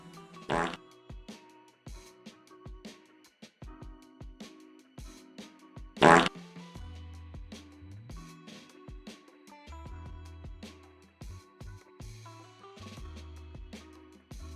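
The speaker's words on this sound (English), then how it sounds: "The rootin' tootin' fart noise is the fart noise in that welcome to the fart zone." Several short, low, buzzing fart noises play as sound alerts during a stream, each a brief rumbling blast scattered among quieter background music and clicks.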